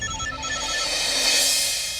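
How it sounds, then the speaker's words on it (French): A telephone rings in a TV drama scene, a repeating electronic ringtone pattern heard clearly and alone against a steady background hiss. "le téléphone qui sonne"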